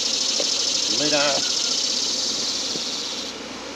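Honey bees from a hive buzz steadily and close throughout, a dense droning hum under a short spoken phrase, while a half cup of bees is shaken into a jar for a mite wash.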